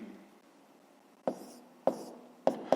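Chalk or marker taps and strokes on a board while an equation is written in a maths lesson, four sharp, distinct knocks spaced unevenly over a quiet room hum.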